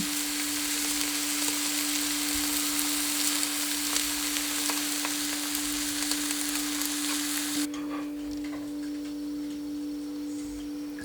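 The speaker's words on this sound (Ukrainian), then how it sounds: "Обсмажимо ще стільки ж часу з іншої сторони." Thawed parasol mushrooms fry in a pan with a steady, close sizzle and crackle throughout, joined by a constant high electrical whine, with the sizzle dropping somewhat quieter near the end; no one speaks.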